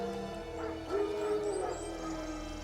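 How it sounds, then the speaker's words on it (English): Wild dogs barking in The Witcher video game, several short yips and whimpering barks at middle distance over steady background ambience, with no talk. "No. Wild dogs."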